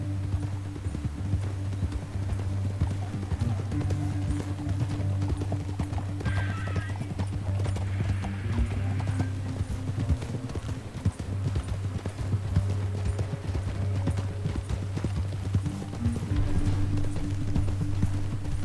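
Hooves clip-clop steadily at a galloping pace over a low droning backdrop in Red Dead Redemption 2, with a horse whinnying briefly partway through.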